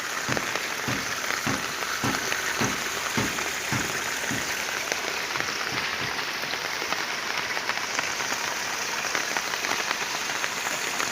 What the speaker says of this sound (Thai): เนื่องจากว่าฝนตกหนักนะครับ